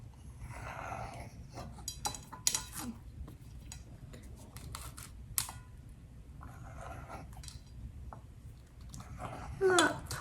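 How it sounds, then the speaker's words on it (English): A knife slices a gluten-free tortilla into triangles on a board for chicken nachos, giving a run of quick crisp cuts and taps, close and moderately loud, scattered irregularly through the stretch. "I just take one tortilla, I just cut it up into little triangles"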